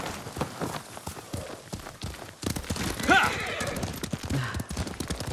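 Hooves clip-clop at a steady walk in the video game Ghost of Tsushima as a rider sets off on horseback, under Spanish dialogue with a brief whinny partway through.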